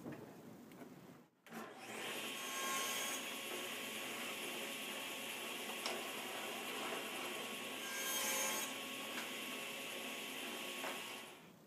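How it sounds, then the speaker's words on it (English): A saw cuts through a wooden miter box: after a brief pause, a continuous loud rasping runs for about ten seconds, swelling slightly in the middle. "Next, I'm going to cut my miter box in 2"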